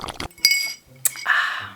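Glasses clink together in a toast of cold green grape drink, a couple of bright chinks standing out clearly near the mic with a little stirring and handling noise around them.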